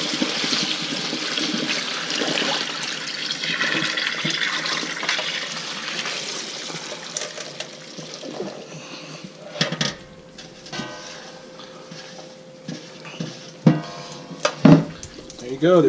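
Buffalo berries and water poured from a container into a strainer: a steady splashing rush of water that tapers off into scattered drips and clinks, with a voice talking nearby.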